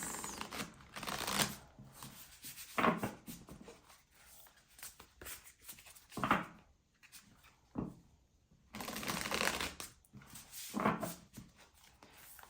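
Tarot cards are shuffled in several bursts of soft riffling and flapping, up close and fairly quiet, with short pauses between them and no talking.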